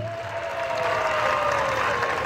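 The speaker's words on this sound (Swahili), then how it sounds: "Piga makofi kwa Dr. Nchimbi." A crowd applauds at a Tanzanian political rally in honour of Dr. Nchimbi, steady clapping and cheering sustained throughout, loud and dense, with a whistle-like tone running above the crowd noise.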